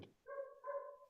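A neighbour's dog, heard from the next property, lets out a faint, drawn-out whining bark in two short tonal bursts against otherwise quiet surroundings.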